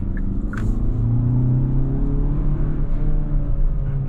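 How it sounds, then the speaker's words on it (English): Steady low engine rumble from a 2022 Hyundai Tucson N-Line SUV cruising, with a smooth droning tone and faint road noise throughout. "Even the sound of this engine is alright."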